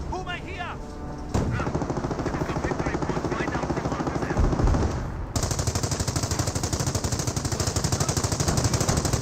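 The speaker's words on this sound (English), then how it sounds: "30 cal placement now engaging" Rapid, sustained bursts of machine gun fire from a .30 cal emplacement in Company of Heroes, loud and continuous with battle noise, mixed with game voices and commentary over the top.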